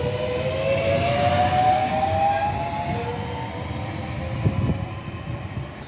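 Train at Kidbrooke station in southeast London, a steady rumbling roll with a rising whine and squeals from the wheels, close and moderately loud.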